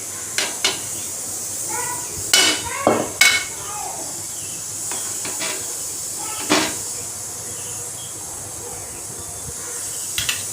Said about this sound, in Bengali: ফুটে গেছে, এবার আমি পটলগুলো দিয়ে দিচ্ছি